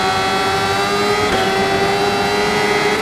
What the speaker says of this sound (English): Just listen to the supercharger spooling and whistling when it revs up.